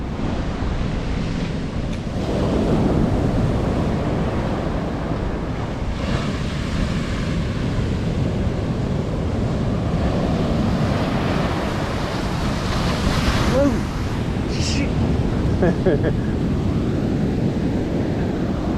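Big ocean waves break on a Philippine shore in Antique, a loud continuous roar of surf with repeated surges and wind buffeting the microphone, no voices.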